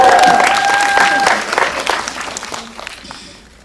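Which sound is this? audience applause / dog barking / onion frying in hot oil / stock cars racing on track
audience applause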